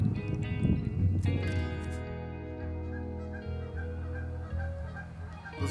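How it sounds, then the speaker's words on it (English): Geese honking repeatedly nearby, loud at first then continuing in scattered calls over a low, steady background hum. "Those geese are beaking off."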